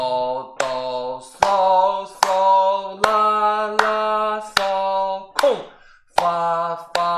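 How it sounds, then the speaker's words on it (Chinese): Steady hand claps, roughly one per second, mark each beat under a voice singing solfège syllables in a beginner guitar lesson, clear and close, with a brief gap near the end. "注意啊，我们唱的时候跟老师一起拍手"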